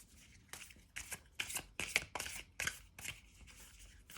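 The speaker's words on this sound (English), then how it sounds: "This deck is a bit difficult to shuffle." A stiff deck of oracle cards is shuffled by hand: a series of sharp riffling bursts in an uneven rhythm, close and fairly quiet, with no talk.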